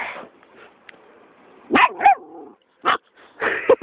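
A dog in a car lets out several sharp, close barks and yips in uneven bursts, separated by brief pauses and a low whine.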